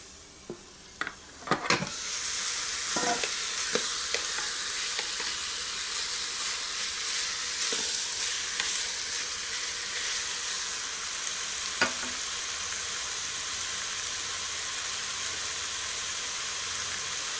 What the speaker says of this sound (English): it does make that nice sizzling sound